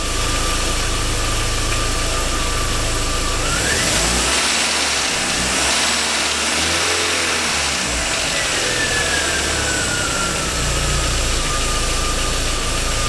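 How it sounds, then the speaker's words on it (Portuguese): A car engine idling at around 800 rpm is revved, rising to a loud roar for several seconds before dropping back to a steady idle, recorded close up with no speech. "Eu vou ali e vou dar uma aceleradinha."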